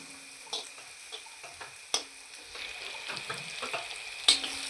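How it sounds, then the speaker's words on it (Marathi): Chicken frying in oil in a pan for a Maharashtrian chicken thecha, a quiet steady sizzle with occasional sharper taps and clinks of stirring, no voices. "असं चिकनला असं तेलावर व्यवस्थित फ्राय करत राहायचं"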